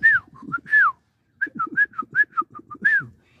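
Whistled sparrow-like chirps, a person imitating the bird, come in short bright phrases of quick rising and falling notes. A brief pause splits them, and the whistling is close and clear with no talk.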